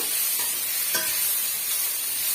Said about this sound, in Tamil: ஒரு ஒன் மினிட்டுக்கு நல்லா வந்து மிக்ஸ் பண்ணி கொடுத்துக்கோங்க